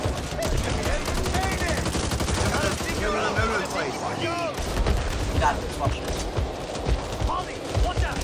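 Rapid, dense gunfire bursts in the Back 4 Blood video game, continuous shooting with impacts and creature noises, while a player talks over it.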